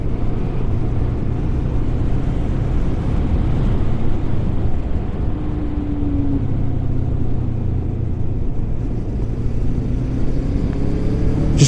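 A Voge 350AC motorcycle's engine pulls steadily as the throttle is rolled on, a continuous close-up rumble under wind, with a faint rising engine tone midway.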